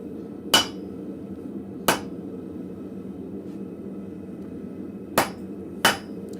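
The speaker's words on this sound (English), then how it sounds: "Just give it a little mark with the hammer." Four sharp hammer strikes mark a hot steel bar at a blacksmith forge, spaced irregularly with a long pause in the middle, over a low steady rumble of the shop.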